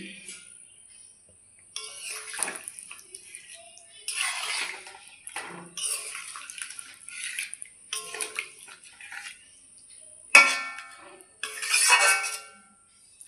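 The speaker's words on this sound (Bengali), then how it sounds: "মাংস আলু দিয়ে দিচ্ছি জল, মিক্সির বাটি দিয়ে জল দিয়ে দিলাম" Water poured from a mixer jar onto meat and potatoes cooking for chicken biryani, a splashing, gurgling pour in several bursts with light clinks of the jar against the pot, fairly close.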